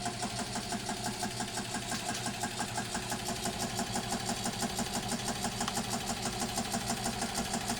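A refurbished 1918 Singer 127 Sphinx sewing machine runs steadily during a run-in, producing a fast, even mechanical clatter with a regular pulsing rhythm, close and sustained throughout.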